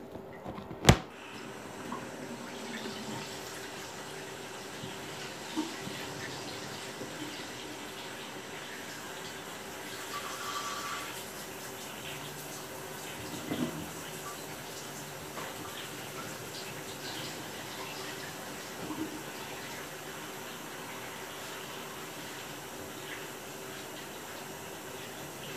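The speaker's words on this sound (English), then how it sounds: "I'm turning the water on so you can't hear me" A bathroom sink tap runs steadily, producing a low, continuous wash of water with a sharp knock near the start and faint clinks later on.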